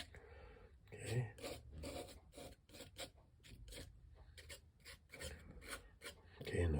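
Knife blade scraping repeatedly across a surface in short rasping strokes, close and fairly quiet, with a steady back-and-forth rhythm of about a dozen scrapes.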